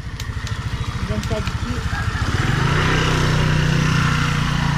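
A motorcycle engine chugs in uneven low pulses, then catches and settles into a steady, louder running drone, with people talking over it throughout.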